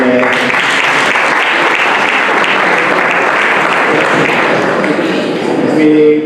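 An audience breaks into dense, sustained applause, many hands clapping at close range for several seconds without letup.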